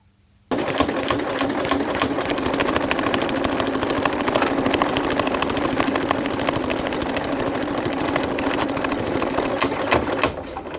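A sewing machine stitches a long straight seam 1 cm from the edge on an insulated bum bag, a rapid steady mechanical chatter starting abruptly and running close and loud for about ten seconds.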